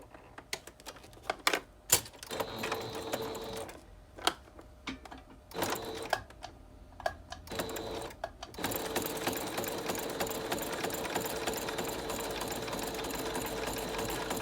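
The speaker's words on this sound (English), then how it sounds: "I'm going to move my clip, and I'm going to start stitching this side." A sewing machine stitches a strap onto a dog poo bag dispenser, first in short rapid bursts separated by pauses and clicks, then in one long continuous close run of fast needle chatter.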